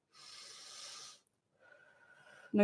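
A person draws in a deep breath during a facial cheek exercise, a steady airy hiss lasting about a second, followed by a fainter second intake and a louder burst at the end.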